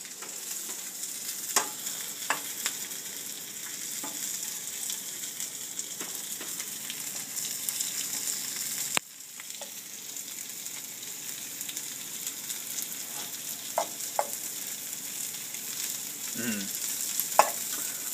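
Food sizzles and fries steadily in a pan while being reheated, with occasional stirring scrapes and clicks over a constant crackling hiss; no one talks.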